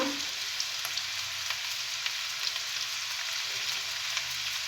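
Vegetables for pisto fry in oil in a pan, a steady soft sizzle with faint crackles running through the whole stretch without speech.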